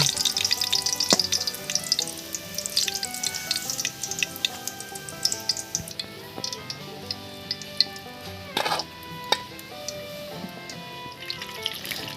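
Potatoes frying in oil for chicken biryani, a loud continuous crackling sizzle with scattered pops and clinks of a utensil against the pan, no talking.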